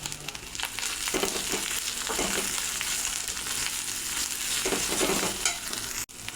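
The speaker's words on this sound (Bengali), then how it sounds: "এই দেখুন মশলা ভাজা হয়ে গেছে" Ground spices with turmeric and salt sizzle in hot oil alongside onion and ginger-garlic. A continuous close frying hiss runs throughout, with rhythmic stirring scrapes rising and falling over it.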